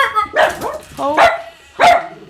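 Several house dogs bark close and loud in three sharp bursts, the calls spaced about half a second apart, with a brief spoken exclamation at the start.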